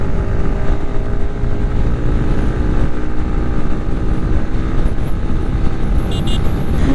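A KTM Duke 250 motorcycle cruising on a highway gives a loud, unbroken roar of engine drone mixed with rushing wind, steady throughout with no pauses.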